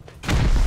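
A rocket explodes in the Rust survival game, a sudden loud low boom erupting after a brief quiet moment and rumbling on through the rest of the moment.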